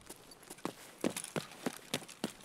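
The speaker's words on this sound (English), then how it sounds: "Thought I heard footsteps." Footsteps in the video game Escape from Tarkov SPT, a steady series of about seven thudding steps at a walking pace, moderately close over a constant background hum.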